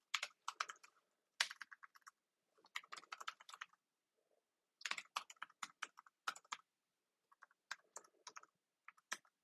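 Quick bursts of typing on a computer keyboard to enter login details, with clusters of close, crisp key clicks separated by brief pauses and no voices.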